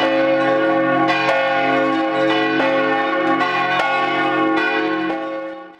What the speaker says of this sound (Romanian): Au bătut clopotele aseară la Biserica Romano-Catolică din Făgăraș